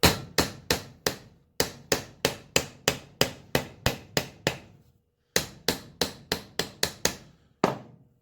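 Loud, sharp hammer blows on a metal flange ring out over a hollow cabinet with shelves inside, struck in quick bursts of several hits with short pauses between groups.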